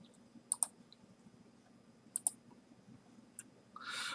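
Two quick pairs of mouse clicks while choosing a file on a computer, then a single click, close and crisp over a quiet room hum, with a brief rustle at the end.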